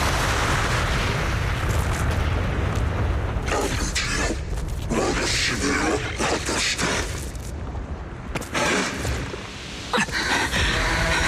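Loud booming explosions burst amid dense rumbling Zenless Zone Zero game audio, with a couple of sharp blasts standing out over a continuous noisy background.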